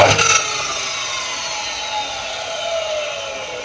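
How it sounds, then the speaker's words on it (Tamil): A mitre saw cuts through wood with a loud, short bite at the start, then the blade whines as it spins down for several seconds. No one speaks. "இப்போ நம்ம இந்த வுட்டை கட் பண்ணலாம்."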